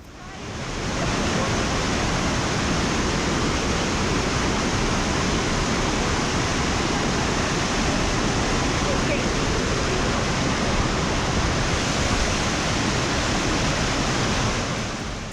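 A powerful waterfall with strong current near Bir, Himachal Pradesh roars as dense, constant rushing water, loud and close, with no pause across the stretch.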